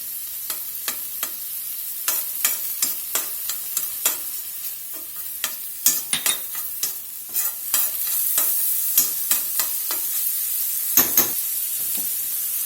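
Food fries in bacon fat in a pan, giving a steady bright sizzle punctuated by many quick crackles and pops throughout, close and fairly loud with no talking.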